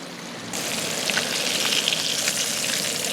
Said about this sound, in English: Go into the egg, then into the batter, then into the pan, then into my belly.